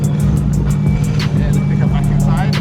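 A car engine fitted with a new turbo and new fuel rail revs loudly and steadily at close range, its deep rumble continuous throughout while people talk over it.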